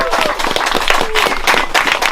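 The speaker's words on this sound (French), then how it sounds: "on peut applaudir parce que vraiment c'était une très très bonne nouvelle" Applause from a crowd at an outdoor rally in Priaires opposing water reservoir projects: continuous dense clapping throughout, with voices mixed in.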